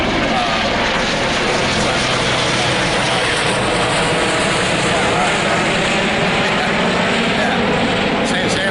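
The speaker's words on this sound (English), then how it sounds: "there's apparently a helicopter flies over" A steady, loud aircraft roar washes over the whole stretch, a continuous rotor-and-engine drone passing overhead with faint voices underneath.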